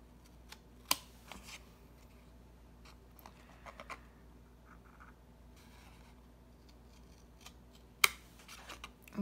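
Scissors snip through a paper dogwood bookmark while cutting a straight line, giving a few sharp, close clicks and crisp cuts spaced apart in a quiet room.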